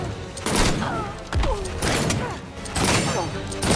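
Rapid bursts of gunfire and heavy impact thuds from the fighting game Injustice at a tournament, clustered in a few loud flurries with voices talking underneath.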